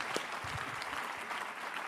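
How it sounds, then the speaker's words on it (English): A seminar audience breaks into a steady round of applause, a dense wash of many hands clapping continuously, fairly loud and close, with no one speaking over it. "Give her a round of applause."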